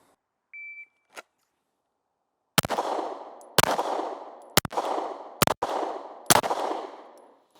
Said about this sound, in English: with just a draw and fire 5 rounds into the A zone with both hands.